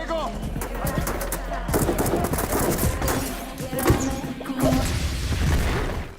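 Loud, chaotic bursts of gunfire and crashing blasts roll on continuously, with a heavy booming impact partway through and voices faintly mixed underneath.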